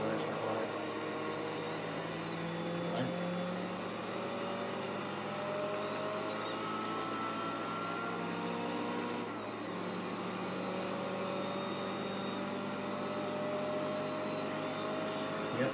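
In Forza Motorsport 2, a racing car engine drones steadily at moderate level for the whole stretch, holding a sustained tone with slight pitch shifts and one brief dip midway. No voices are present.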